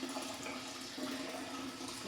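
Water runs steadily from a tap, a continuous close hiss and gurgle of filling at low level, with no talking.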